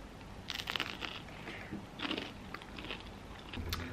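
Close, quiet crunching and chewing of a crispy crêpe with mushrooms and fresh herbs, irregular bites over a few seconds with no talk.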